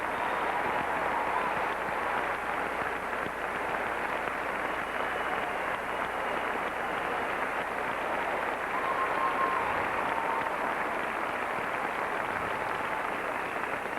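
Figure skating arena crowd at a championship, sustained applause filling the space as a steady, dense wash of clapping throughout, moderately distant and even in level.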